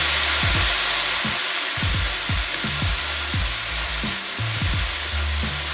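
A whole stick of butter melts and sizzles in a pan for shrimp scampi, a steady frying hiss broken by repeated low knocks and clunks of the pan, close and fairly loud with no talking.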